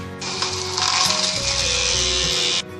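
A blender whirs loudly for a couple of seconds while blending a lemon mint drink with water and ice, a steady high-pitched motor roar with churning, starting abruptly and cutting off.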